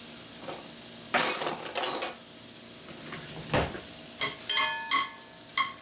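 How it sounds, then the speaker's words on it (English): Bacon frying in a pan, a close, constant sizzle with bursts of crackling and popping, plus a few light metallic clinks of utensils against the pan. "There's not going to be any point in you watching the bacon fry."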